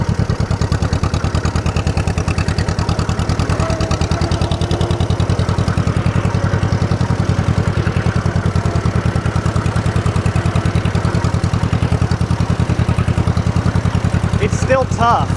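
An old tractor engine idles with a steady, low, rapid chugging pulse and mechanical clatter, close and constant throughout, with a few faint higher sounds near the end.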